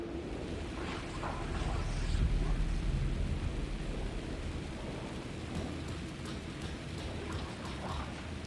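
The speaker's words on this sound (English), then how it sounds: "The rain never stopped falling" Steady rain falls in the video game Alan Wake 2, a soft continuous wash with low rumbling and gusts of wind, faint and unbroken across the whole stretch, with no talking.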